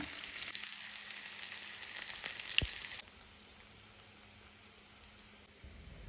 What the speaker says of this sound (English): I saute it for a bit, let it cook and let all of this turn brown.